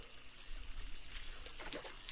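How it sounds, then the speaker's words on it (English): Splashing and trickling water from a character swimming in the survival game 7 Days to Die, continuous moderate sloshing with a few brighter splashes near the end. "Well, it looks like a long swim again."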